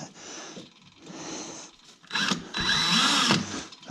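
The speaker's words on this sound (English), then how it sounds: "think this used to be a pretty decent drill bit" A power drill with a worn bit bores into a part on a 1973 Arctic Cat Lynx snowmobile, whining at low speed, then surging louder and grinding harder in the second half, close up and with no talk.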